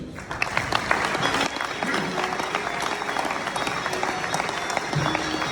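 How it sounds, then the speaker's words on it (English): A crowd claps and applauds steadily throughout at a SEMA Hall of Fame induction, a dense wash of hand claps in a large room. "Ladies and gentlemen, let's hear it again for John Iannotte."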